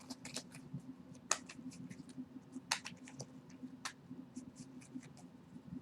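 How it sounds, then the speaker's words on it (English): A deck of tarot cards being shuffled by hand up close, giving a run of crisp, irregular riffling and flicking bursts over a low steady hum, with no talking. "I'm going to get a good shuffle on these."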